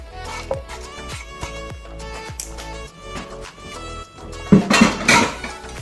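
Bacon is stirred in a pot on the stove, giving a steady run of metal spoon scrapes and clinks against the pot, with a louder clatter near the end.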